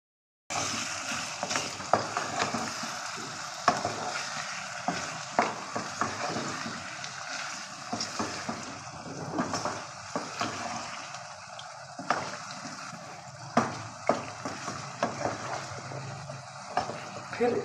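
Mixed vegetables cooked Chinese style sizzle and crackle steadily in a hot pan, with repeated scraping stirs and faint talking in the background.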